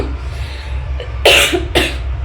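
Two sharp, loud coughs close together near the mic, over a low steady background hum.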